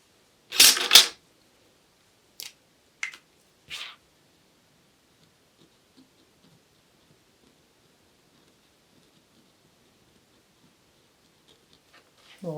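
A few sharp camera shutter clicks come close together near the start, followed by mostly silence and a faint click at the end.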